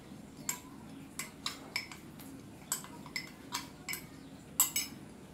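Cake batter is mixed in a bowl for a birthday cake, a utensil clinking against the bowl in a quick irregular series of light taps, fairly faint and close, with no talking.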